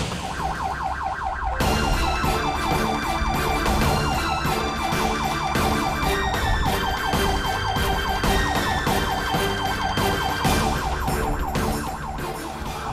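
An ambulance siren wails loudly and continuously, starting abruptly after a quiet moment and holding a steady, repeating electronic tone throughout.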